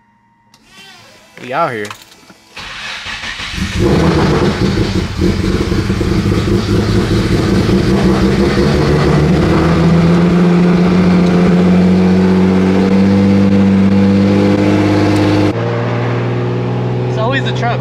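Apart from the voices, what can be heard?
Nissan Z engine starting and revving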